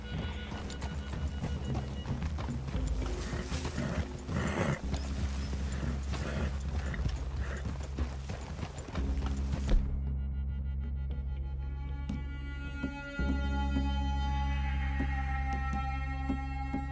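Horses' hooves clip-clopping in the Red Dead Redemption 2 video game as riders approach a clearing, a steady close rhythm of hoofbeats over game ambience that drops away partway through, leaving quieter background sound.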